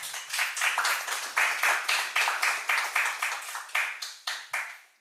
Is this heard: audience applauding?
yes